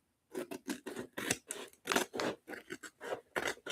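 Scissors cutting through craft material, a quick series of about a dozen crisp snips in an irregular rhythm, close and clear with no talking.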